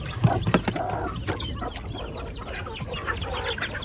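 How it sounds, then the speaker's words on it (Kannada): A mother hen sitting with her chicks in a farm coop gives soft, repeated clucks in an uneven rhythm, close by, over a faint background. "ತಾಯಿ ಕೋಳಿ ಆಲ್ರೆಡಿ ರೆಡಿ ಆಗೈತೆ, ಅಲ್ಲಿ ಕೂತೈತೆ"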